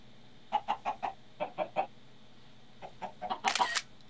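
Short repeated clucks from a chicken in the game Minecraft, two quick runs of three, a brief pause, then a denser burst ending in a louder, noisier flurry; no one talks.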